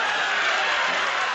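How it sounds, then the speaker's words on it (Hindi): A crowd at a comic poetry mushaira in Azamgarh applauds, a dense, even wash of clapping that holds steady for the whole moment with no pause. "जोरदार तालियां बजा दे।"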